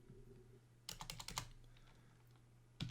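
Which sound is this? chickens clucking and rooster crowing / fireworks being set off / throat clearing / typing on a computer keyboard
typing on a computer keyboard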